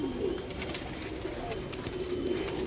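Soft, low pigeon cooing repeats steadily over a faint background hum, fairly close and unhurried.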